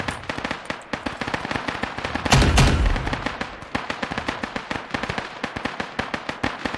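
Mortar rounds firing on a fire mission in a military deployment, heard as a rapid run of sharp, loud reports with one heavy, boomier blast partway through. No one speaks.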